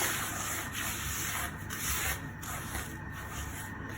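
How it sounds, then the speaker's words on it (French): Hands work couscous grains together with oil and salt, a close, continuous gritty rustle and rubbing with slight surges, no voices. "On mélange bien l'huile avec le sel, avec le couscous pour que ça s'imprègne bien"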